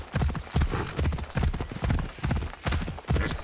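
Horse hooves clip-clop in Assassin's Creed Odyssey, a steady rhythmic series of about seven heavy, close, evenly paced footfalls heard alone.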